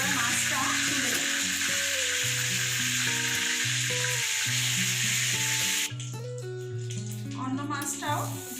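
Tilapia fish frying in a kadai of oil, a loud, steady, hissing sizzle that runs throughout beneath background music.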